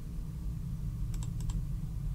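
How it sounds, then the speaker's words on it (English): Four quick light computer mouse clicks arrive in two close pairs, faint and crisp, sitting over a steady low hum of background noise with no talking. "I bet my microphone is hearing my mouse clicks."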